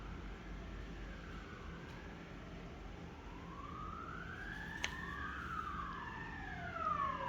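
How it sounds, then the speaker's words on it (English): Distant sirens wail and overlap, rising and falling in long sweeping tones over a low traffic rumble, growing slightly louder. "Here goes the sirens."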